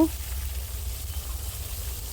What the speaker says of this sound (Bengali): দেখো মাছগুলো ভাজা হয়ে যাচ্ছে